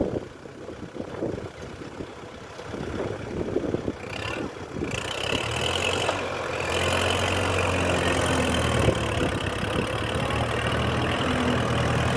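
A heavy tractor engine idles steadily up close in a cassava field, its low rumble settling into an even drone after a few rougher seconds.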